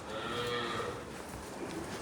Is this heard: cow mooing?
yes